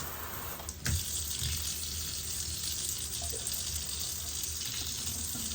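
Warm tap water running steadily from a kitchen faucet into a measuring cup for yeast dough, a continuous close splashing hiss with a brief knock near the start.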